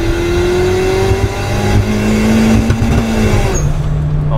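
A race-modified Toyota Avanza with an intercooler revs loudly close by, its engine note holding and then shifting pitch in sustained pulls.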